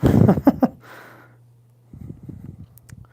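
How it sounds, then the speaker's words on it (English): A person breathes close into a microphone while resin casting, with a few heavy, quick breaths up front and a softer breath near the end, alone with no talking. "You hear me breathing into the mic."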